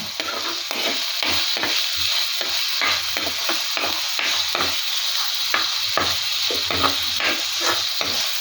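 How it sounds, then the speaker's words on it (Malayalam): Curry leaves crackle and sizzle in hot oil in a pan for a Kerala mackerel curry, a loud steady frying hiss broken by repeated stirring scrapes throughout, with no talk. "അത് കഴിഞ്ഞ് നമുക്ക് അതിലോട്ട് ഒരു കതിർപ്പ് കറിവേപ്പിലയും കൂടെ ഊരിയിടാം."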